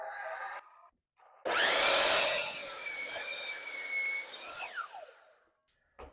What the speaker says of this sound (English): that just so happens to be the limit of my miter saw. So I'm going to cut this here.